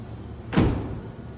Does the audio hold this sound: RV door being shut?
yes